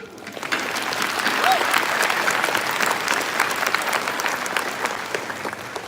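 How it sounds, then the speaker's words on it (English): A graduation audience gives dense, sustained applause for the parents. Many hands clap loudly and steadily for about six seconds, with a crowd-wide wash of sound throughout. "Let's give them a round of applause."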